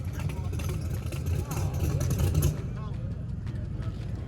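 A loud, low drag racing car engine rumbles nearby with a dense, churning compression roar that eases slightly after a couple of seconds; a voice talks underneath.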